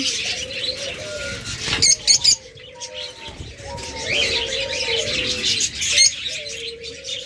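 Lovebirds and other pet birds at a bird market chirp and tweet in a busy close chorus, with cooing doves, sharp calls and a brief wing flutter mixed in.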